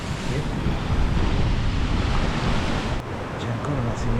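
A fast, rushing river flows along a narrow road, a steady, loud wash of turbulent water roaring close by without a break, with some wind buffeting the microphone.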